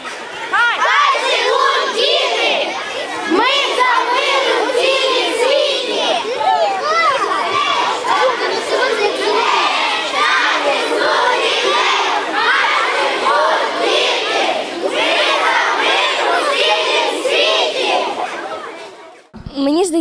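Crowd of children shouting slogans and cheering while marching through village streets at a peace march, loud continuous chatter and chanting voices throughout, with music under the noise.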